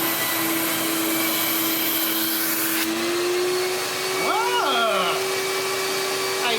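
A 2,000-watt vacuum cleaner fitted with a dry filter and no bag drones steadily on a water lift gauge, a loud continuous whine filling the clip while a brief voice comes in near the end.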